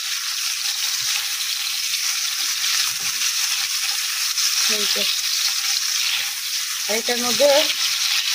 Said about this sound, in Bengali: ভাজতে দিচ্ছি